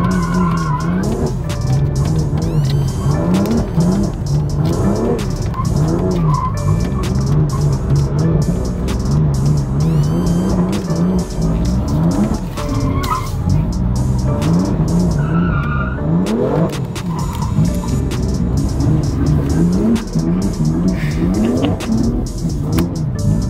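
A modified car skids and revs hard on a skid pan, its engine note swooping up and down repeatedly under long, loud tire squeals that continue without a break.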